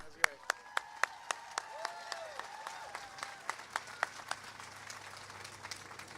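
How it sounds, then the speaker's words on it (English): Applause at a school grand opening ceremony: sharp, distinct claps spaced through the stretch, some louder and nearer than others, over a faint hum, with a voice talking underneath. "one more applause for Jim Lintott"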